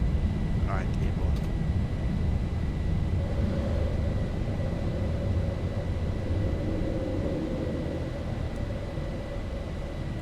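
Airliner engines roaring steadily during takeoff in a Zibo mod Boeing 737 flight simulator game, a loud continuous broadband rumble with a rising whine, flying from Baltimore toward Providence.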